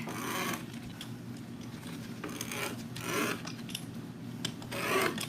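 Scissors cutting through curly ribbon for a bow, a soft papery rasping and scraping that comes in several irregular bursts, close up and fairly quiet, with no talking.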